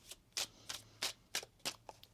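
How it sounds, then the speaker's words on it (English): A tarot card deck being shuffled by hand: about seven crisp riffling bursts in a regular rhythm, close and fairly quiet, with no one speaking. "One more shuffle here."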